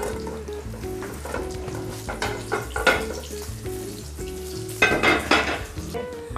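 Sofrito frying in a pan for chiretas with almond sauce, a steady close sizzle with stirring scrapes and louder bursts of crackle near the end, over a low continuous hum.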